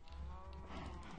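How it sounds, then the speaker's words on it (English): Cows in the Minecraft video game moo close by, a short low lowing call that holds steady for about a second over a faint game background. "So there's quite a lot of cows in there"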